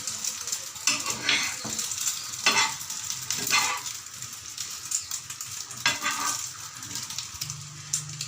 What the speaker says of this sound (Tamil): முட்டையை உடச்சி ஊற்றி இப்போ 4 பக்கமும் போட்டுக்கிட்டு திருப்பி போடுங்க